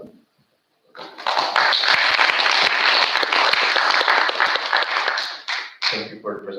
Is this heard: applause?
yes